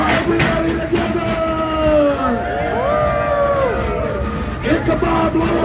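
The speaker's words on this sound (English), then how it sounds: "Let me hear y'all start screaming as loud as you can." Passengers aboard the Frisco Silver Dollar Line steam train scream and yell together inside a tunnel, a loud sustained chorus of rising and falling voices echoing over rumbling rail noise.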